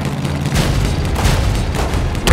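A grenade goes off in the World War II game Road To Valor, a loud, sustained rumbling boom with crackling debris that fills the short stretch without pause.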